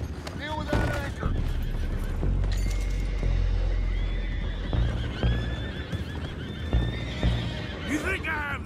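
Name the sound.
horses neighing in the video game Red Dead Redemption 2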